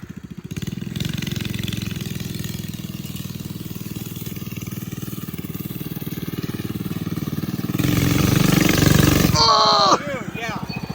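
A Predator 212 small engine runs steadily with a rough, buzzing idle, then revs up louder for a couple of seconds before dropping back. It is close and loud, and there is brief casual talk near the end.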